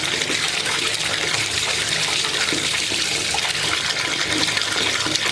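Tap water runs steadily under a hand rubbing a solid Lush bath product, producing a continuous broad splashing flow with no talk.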